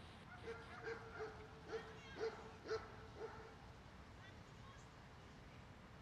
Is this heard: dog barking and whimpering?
yes